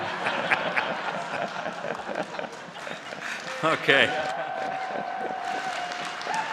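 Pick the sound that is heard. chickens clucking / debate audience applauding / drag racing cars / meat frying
debate audience applauding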